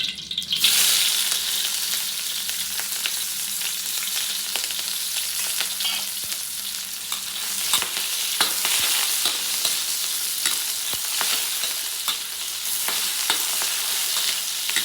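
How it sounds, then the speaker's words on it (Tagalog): Onion and ginger sauté in a hot pan, a continuous loud sizzle and crackle with occasional scraping stirs, close and steady throughout with no talking. "naigisa na natin itong sibuyas sa kaluya"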